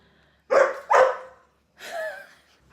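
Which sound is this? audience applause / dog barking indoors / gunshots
dog barking indoors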